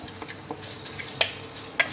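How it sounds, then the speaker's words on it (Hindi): Whole black peppercorns, cumin and coriander seeds dry roasting in a kadhai give a faint, soft rustle and sizzle, with a few sharp little clicks and taps as they are stirred, quiet and without talking. "अब इसमें ये एक साथ ही उला लूँगी, जैसे गोल मिर्च है, ज़ीरा और धनिया साबुत है।"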